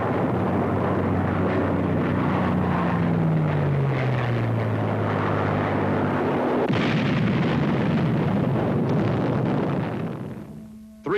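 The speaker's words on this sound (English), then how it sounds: "Three times bombs smash into the Enterprise" Bombs striking the aircraft carrier Enterprise off Santa Cruz, a loud continuous roar of blasts and engine drone with a descending whine and a sharp burst near the end, fading before a brief tone.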